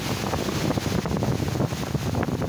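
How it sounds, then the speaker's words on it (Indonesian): Large, rough ocean surf at Ujung Genteng beach at night rumbles continuously, a dense wash of crashing water mixed with gusty wind buffeting the microphone, with no voices. "nah itu ya sedikit tentang naik ombaknya besar ya kalau dibilang ini lagi buruk ya lautnya lagi buruk"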